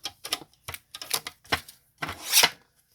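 Scissors snipping paper to trim an envelope liner, a quick series of about seven close, crisp cuts in an uneven rhythm, the last one a longer drawn-out slice, with no voices.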